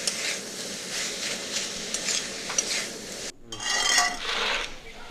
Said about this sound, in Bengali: ভালো করে নেড়ে নিচ্ছি।